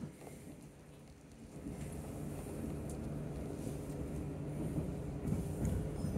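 Interior of a South Western Railway Class 458 electric train in motion: a steady, loud low rumble with rolling hum and wind-like roar that swells slightly and holds throughout.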